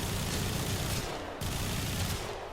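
Rapid pistol fire from dual Regulator pistols during the Peacemaker ability in the video game Warframe, a loud, sustained stream of shots with a brief gap midway.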